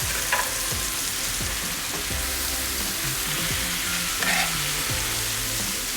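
Tomatoes go into a pan of chicken for chicken saç kavurma, setting off a loud, steady sizzle and crackle of frying, with scraping and stirring knocks against the pan throughout.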